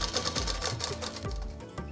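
A sewing machine stitches a half-inch waist seam on a plain frock with a gather, its needle chattering in a rapid, even mechanical rhythm up close, running steadily throughout.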